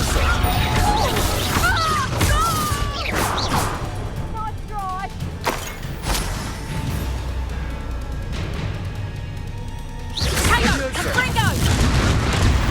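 Spell blasts in the Hogwarts Legacy video game, with booming impacts and crashes: a cluster early on, quieter stretches, then a heavy burst near the end, mixed with shouted spell incantations and voices.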